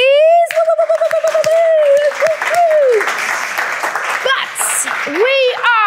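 An audience claps for a special guest, broad steady applause rising under a voice and mingling with other voices for several seconds.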